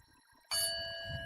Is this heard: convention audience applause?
no